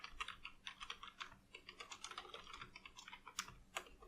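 Someone types on a computer keyboard in quick, irregular bursts of soft key clicks, faint and close, with a couple of sharper keystrokes near the end.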